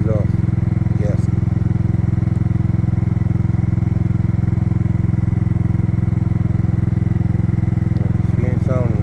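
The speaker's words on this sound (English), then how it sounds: "probably, I think I blew out the exhaust gasket." A Kymco scooter engine with a blown exhaust gasket runs steadily close by, its loud, even drone holding throughout with a brief clatter near the end.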